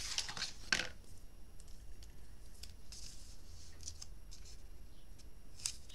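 Scissors cut straight across a paper edge for a mini scrapbook album, with a brief crisp snip at the start followed by faint, sparse rustling and light handling sounds.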